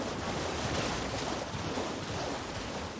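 A horse running through water in Elden Ring, a continuous close splashing and rushing wash of water, steady and fairly faint, with no talk.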